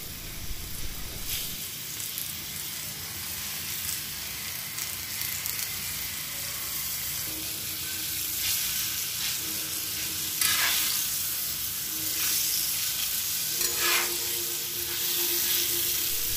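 Coated pomfret fish frying on a hot tawa, a steady broadband sizzle that rises and swells as pieces are laid in, close and loud with no talking.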